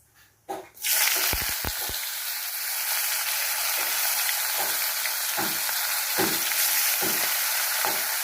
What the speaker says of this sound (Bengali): এবার কই মাছগুলো দিয়ে দেবো।